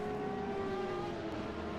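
Race cars in an endurance racing game at the 6 Hours of Dubai, a steady engine whine holding a high tone, with cars running close together.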